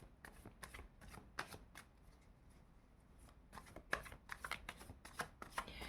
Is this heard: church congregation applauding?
no